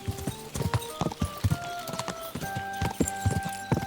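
Several horses gallop together in the medieval game Kingdom Come, a steady rapid clip-clop of many hooves close by, with a sustained musical tone running underneath.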